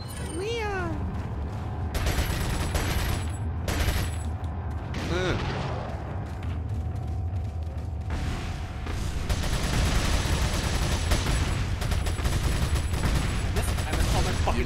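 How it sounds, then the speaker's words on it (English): Gunfire from the video game Resident Evil 4: a run of sharp shots and bursts cracking over a busy game soundtrack, with voices and other effects mixed in across the stretch. "I missed all my fucking shots."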